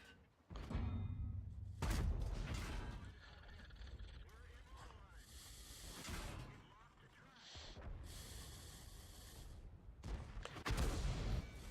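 Heavy impacts in World of Tanks, with artillery shells striking a tank as several loud booming hits and rumbling crashes, while a player talks over the action.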